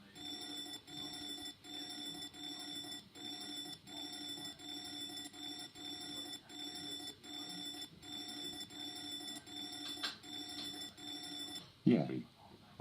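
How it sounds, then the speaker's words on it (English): A school fire alarm rings in steady repeating electronic pulses for about twelve seconds, loud and close, over a faint voice, then cuts off into a brief burst of clatter. "Yeah, I pulled down the fire alarm."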